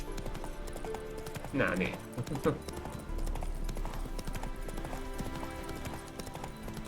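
Hooves of Roach, Geralt's horse in The Witcher 3 on PS5, clip-clop at a gallop under game music, with a person briefly talking over the steady hoofbeats.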